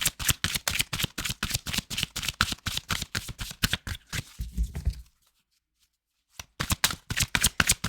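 A deck of cards shuffled in quick riffling bursts, crisp repeated flicks that stop for about a second and then resume, close and loud with no voices.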